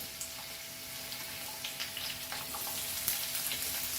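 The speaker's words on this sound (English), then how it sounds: "So let's fry our veggies like the French beans nicely" French beans sizzle in a hot pan for beef fried rice, a constant hissing fry close by with light stirring clicks and scrapes scattered through.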